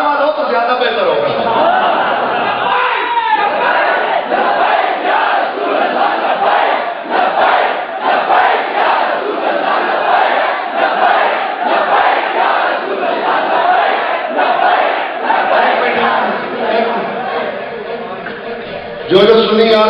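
Large crowd at a Labbaik Ya Rasool Allah religious conference in Oghi chanting slogans in unison, a dense, loud, continuous roar of many voices with rhythmic pulses, heard through a narrow, distorted sound system.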